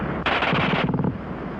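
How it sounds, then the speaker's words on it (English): A German WWII machine gun fires one very fast burst lasting under a second, loud and close, each shot barely separated from the next, then a quick tail of echo as it fades. "the German gun fires faster than anything you've run into before"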